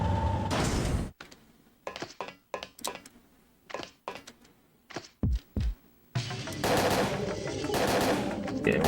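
Gunshots in the survival horror game Parasite Eve 2, a string of separate loud close shots with short gaps between them, followed by a sustained noisy roar of heavy firing.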